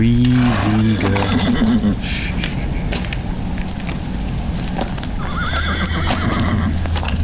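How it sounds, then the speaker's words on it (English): Horses neigh and whinny up close at the start, followed by steady clip-clop of hooves under a continuous outdoor bed, with a second whinny near the end and a voice speaking briefly. "Horses are skittish, Lladarn."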